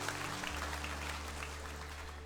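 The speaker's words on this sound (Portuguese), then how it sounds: "Você pode aplaudir ao Deus vivo?" A church congregation claps during a sermon, a short, fairly quiet wash of many hands over a low hum.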